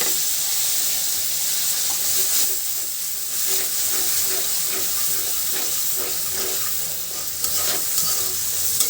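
Spice paste sizzles hard in a hot frying pan for a fish curry, a loud steady hiss with scattered crackles and occasional scraping from stirring, close and continuous with no talking.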